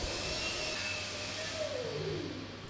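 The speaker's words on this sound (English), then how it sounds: "I'm just turning up something on the lathe now" A metal lathe turning a part for an SdKfz 221 light armoured car restoration, heard as a steady broadband machine whir with a faint tonal whine that drops in pitch near the end, continuous and fairly close.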